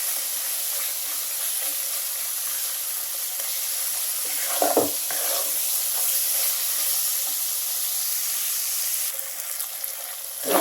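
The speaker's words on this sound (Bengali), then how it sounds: "খুব ভালো করে শুটকিটা এভাবে মশলার মধ্যে কষিয়ে নেবেন" Dried loitta fish sizzles steadily while sautéed in spices in a pan, a constant near hiss with a brief scrape partway through, no voices.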